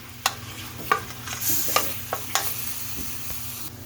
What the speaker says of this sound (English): Continue cooking it until your meat is not pink and it's all the way done